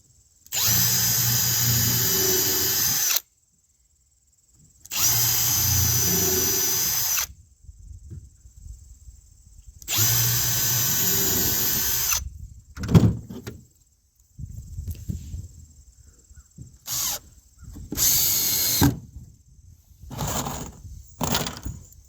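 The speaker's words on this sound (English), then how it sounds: "I'm drilling into the sides also." Power drill bursts into wood while building a Peterson bluebird house: three long whirring runs of about two to three seconds each, followed by shorter, choppier bursts and clatter.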